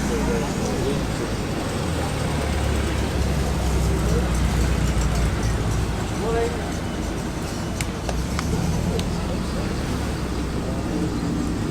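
A TVR V8 sports car on the road at a classic car show, electric cooling fans whirring under a low engine rumble, with a voice talking over the steady outdoor background.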